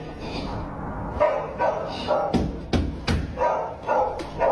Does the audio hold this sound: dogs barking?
yes